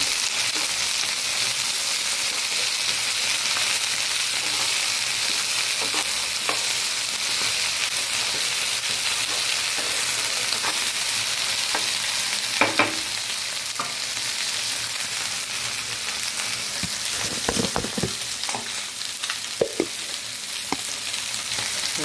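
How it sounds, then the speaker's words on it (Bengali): Okra cut into thick pieces fries in a pan with a loud, steady sizzle, while stirring adds occasional scrapes and clatters against the pan. "এবার ভেন্ডিগুলো ঢেলে দিব।"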